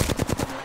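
Rapid automatic gunfire from the Flatline rifle in Apex Legends on PS4, a quick burst of four or five close, punchy shots in under half a second, followed by a short fading tail.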